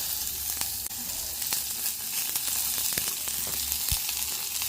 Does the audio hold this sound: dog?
no